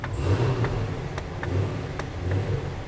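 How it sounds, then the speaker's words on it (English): A 2022 Cadillac CT5-V Blackwing with its exhaust in quiet mode, its engine revved on throttle in a few short, deep, rumbling blips that rise and settle, close and fairly loud. "Let's listen to that throttle just a couple more times here."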